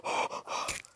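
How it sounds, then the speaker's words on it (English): Quick heavy gasping breaths from someone exercising on a bike, three close, loud puffs in rapid succession with no speech. "I need to stop breathing so hard. It's because I'm exercising at the same time"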